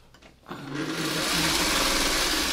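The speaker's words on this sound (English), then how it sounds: "we're just going to go through the smaller stuff again and just keep sewing it until it's long enough to get going" A sewing machine starts up and runs continuously as it stitches fabric pieces together, a close, loud, steady mechanical whir with rapid needle rhythm, alone without talking.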